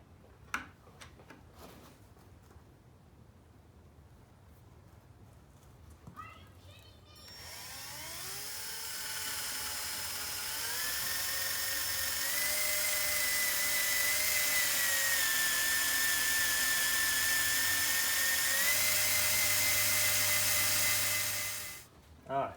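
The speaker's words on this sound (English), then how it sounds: "You can hear the oil moving around in there." Engine oil swirls and whirs inside an engine block as a distributor drive is turned clockwise into place, a rising, sustained whine that holds steady for several seconds then cuts off, with faint clicks and handling noises before.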